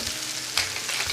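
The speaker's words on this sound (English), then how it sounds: "give those a stir into your broth" Ingredients for Italian wedding soup stirred into a hot broth, a continuous bubbling sizzle with soft stirring scrapes, close and brief.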